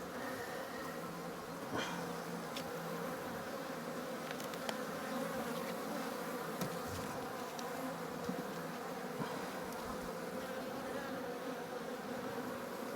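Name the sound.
honey bees buzzing during beekeeping hive inspection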